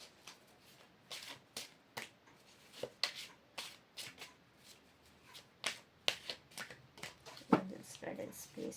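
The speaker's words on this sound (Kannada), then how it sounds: "ಕಾರ್ಡ್ ಶಫಲ್ ಮಾಡೋಣ" A deck of tarot cards is shuffled by hand nearby, giving repeated crisp riffling and slapping bursts in an uneven rhythm.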